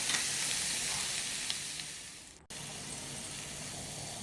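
Onions fry in a kadai over a medium flame with rock salt, giving a steady close sizzle and hiss that drops in level and then resumes just as strongly.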